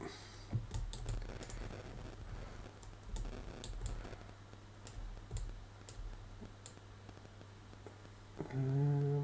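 Computer keyboard keys tapped while working in Maya 3D modelling software, a run of scattered clicks and presses at close range with short pauses between them.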